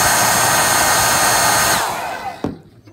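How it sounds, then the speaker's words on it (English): A handheld hair dryer blows loudly and steadily close by while nail wraps are being applied, then winds down and clicks off near the end, with no one speaking. "now hit them with your hairdryer again"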